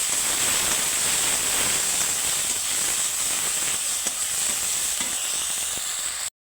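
A bay leaf fries in hot mustard oil and white oil in a pan, giving a steady, close, even sizzle and hiss that holds unbroken until it stops abruptly.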